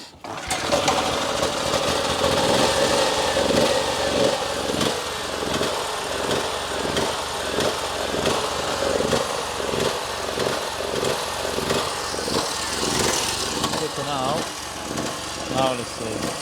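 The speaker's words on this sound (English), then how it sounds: "let's try and see if we can get this generator to start, but it's not looking hopeful at the minute. It just keeps cutting out" Petrol generator being started and run, with a loud, rough, chugging engine throughout that surges and falters unevenly as if about to cut out, and no clear talk over it.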